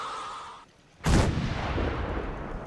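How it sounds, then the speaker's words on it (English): Artillery fire in Fallout 4: after a quiet pause, a single heavy, sharp blast lands close and loud, followed by a long rumbling roar that trails off slowly. "Now, however, we can utilize some artillery."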